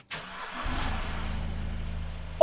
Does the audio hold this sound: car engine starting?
yes